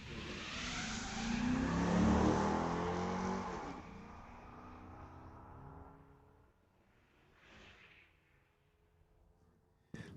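A 2022 Tesla and a Corvette launch in a drag race at a street-legal strip, with a loud whining, roaring burst that fades as they race away, followed by a faint distant pass.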